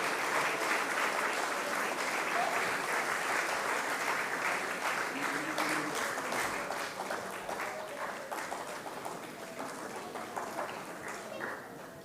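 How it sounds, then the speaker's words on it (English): Dense, sustained audience applause at an Independence Day staff recognition event, a continuous wash of many hands that holds steady for about twelve seconds and fades slightly toward the end, with faint voices underneath. "A big round of applause to Vijay."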